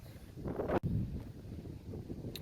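Gusts of wind rumbling against a microphone on a golf course, a low buffeting roar with a brief dropout, fairly loud and continuous, no voices.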